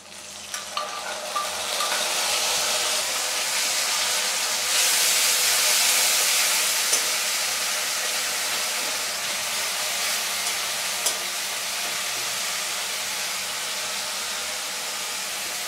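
Onion paste frying in hot oil for a fish egg curry: a continuous close hiss and sizzle with occasional clicks of stirring, loudest in the middle, with no talking.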